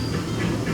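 The Disneyland Railroad train rolls along its rails during a Christmas-season ride, giving a brief, steady, close rumble with hissing wheel and track noise.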